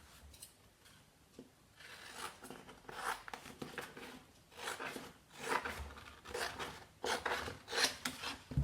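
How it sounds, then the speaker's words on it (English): Scissors trim a strip of craft vinyl with a series of rasping cuts, close and moderately quiet, each stroke a short scratchy burst repeating in an uneven rhythm with no talk. "now I'm just going to trim up this piece of vinyl because it's a bit too wide"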